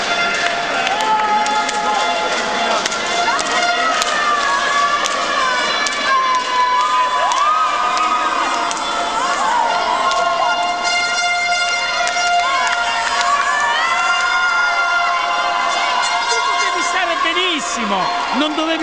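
A crowd at a volleyball playoff semifinal between Crotone and Cuore Reggio cheers and shouts continuously, with whistles and horns sounding through the noise and people nearby talking over it.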